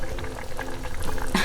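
Coconut milk is poured into a pot of chicken soup, making a brief gurgling, bubbling liquid sound with a sharper splash toward the end.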